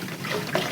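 Water poured over someone during a bath, a steady close trickle and splash running for a brief moment with no voices.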